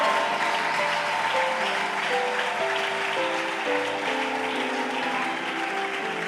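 A church congregation claps and cheers in a dense, sustained burst of applause that fills the room, with music tones held underneath throughout.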